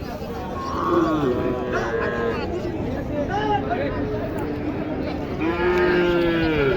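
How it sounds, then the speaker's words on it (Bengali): Cows moo repeatedly, deep and drawn out, over the steady chatter of a busy crowd at a cattle market in Naogaon, Bangladesh. "এখানে একটা ক্রস গরু আছে দেখেন"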